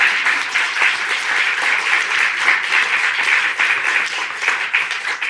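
A crowd at a health funding announcement at UBC breaks into sustained, dense applause, loud and even for several seconds with no speech over it.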